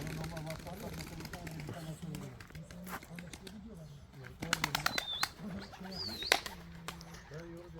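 A pigeon coos and claps its wings in a few sharp bursts while people talk nearby.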